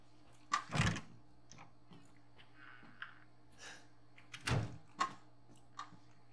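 A door in the Resident Evil Village game, heard as two distinct thudding, creaking bursts a few seconds apart over a quiet ambient hum, with small faint clicks in between.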